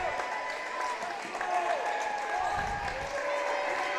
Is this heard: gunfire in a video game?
no